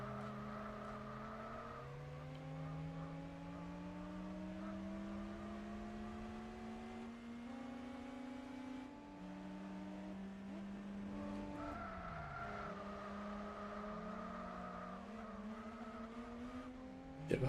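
Engine of a racing car in Gran Turismo 4 droning steadily as it accelerates through repeated gear shifts, with the pitch climbing and dropping, a brief tire skid near the middle and a sharp noise at the very end.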